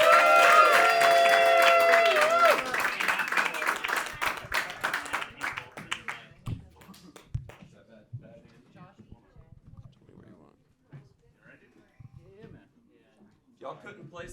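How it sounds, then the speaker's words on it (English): Comedy roast battle crowd in New York claps and cheers loudly for a few seconds, then the applause thins into scattered claps and murmuring as people talk and settle down. "I want to hear some noise. Clap it up."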